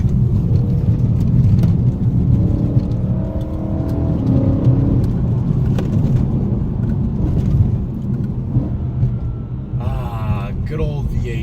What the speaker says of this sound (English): Good old V8. The sound from this car is fantastic, honestly.